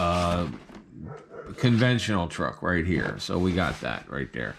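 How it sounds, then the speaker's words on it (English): A dog barks and growls in the background of an indoor room while someone talks continuously over it, the barks fairly loud and intermittent under his speech. "Sorry about the dog barking in the background"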